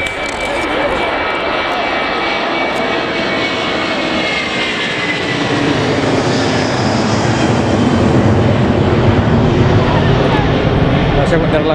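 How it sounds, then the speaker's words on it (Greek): Airplanes fly overhead during a football match, a loud, swelling engine roar that grows stronger as it passes, with a commentator's voice talking over it. "Έχουν τα αεροπλάνα"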